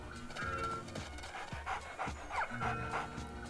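A dog pants rapidly and rhythmically in the PS3 game Enchanted Arms, with short breathy bursts over a steady game soundtrack and no talking.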